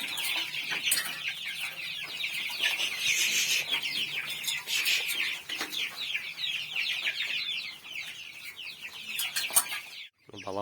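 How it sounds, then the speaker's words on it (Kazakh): Many chickens and small chicks on a poultry farm cluck and cheep in a dense, continuous chorus close by, with scattered louder peeps and a brief thump near the end. "Бұл жерде 50-ден аса балапан бар."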